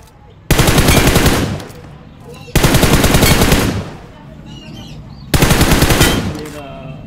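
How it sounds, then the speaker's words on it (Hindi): Automatic gunfire from the mobile battle-royale game PUBG Mobile comes in three loud, sustained bursts of rapid shots. Each burst fades into a quieter gap before the next one starts. "इसी की तो बंदूक की आवाज आ रही थी।"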